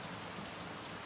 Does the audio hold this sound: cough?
no